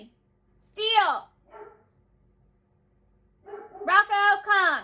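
Dogs bark at a neighbor working in his yard: a burst of excited barking, a brief yip, then a longer run of loud, close barks with whimpering tones between.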